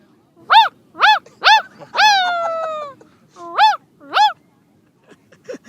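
A human voice imitates a dog barking: a series of sharp yips, one drawn-out howl-like bark, then two more barks, loud and close.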